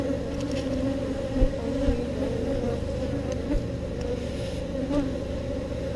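Honeybees from a 20-year-old hive cut out of a wall buzz in a steady, dense drone close by, with a few individual bees zipping past the microphone.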